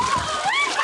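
Water spraying and splashing loudly from a burst leak, a continuous wet rush with people shouting in alarm over it.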